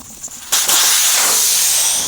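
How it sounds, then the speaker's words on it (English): Air hisses out of a Veteran Patton-S or Lynx-S tire valve as the core is removed, a sudden loud rush that starts after a quiet moment, then a sustained close hiss slowly easing. "I will now remove the valve core using this valve core removal tool."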